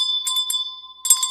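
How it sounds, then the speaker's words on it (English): A bell sound effect rings out as sustained metallic tones with a high, bright ring and a fainter lower pitch, struck several times in quick succession, then struck again near the end. "don't forget to ring the bell"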